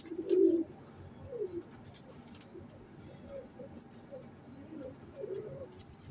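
Teddy pigeon cooing close by in soft, low, throaty bursts, a louder coo at the start followed by several quieter repeated coos, with faint talk in the background.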